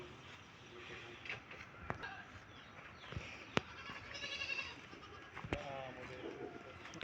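A goat bleats a few times in a rural province yard, faint to moderate amid outdoor background noise and sharp clicks, with people talking quietly nearby.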